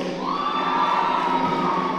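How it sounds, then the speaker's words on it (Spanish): Crowd at a school prom cheering and shouting, a dense, steady wash of voices with high whoops sustained throughout, loud and close, with no distinct speech over it. "Un aplauso, por favor."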